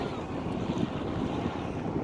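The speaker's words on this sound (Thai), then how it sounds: "ลมแรงมากเลย" Strong wind in Iceland buffets the microphone in a constant low rumbling roar, with a watery wash underneath.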